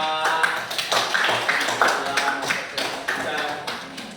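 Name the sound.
applause for the group work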